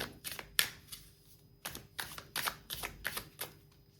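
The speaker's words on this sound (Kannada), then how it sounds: "ಇದಕ್ಕೆ ಇಲ್ಲಿಂದ ಒಂದು ಕಾರ್ಡ್ ತೆಗೆಯೋಣ." A single tarot card drawn from the deck, heard as a series of crisp, separate card snaps and flicks close up, spaced irregularly over a few seconds, with no talk.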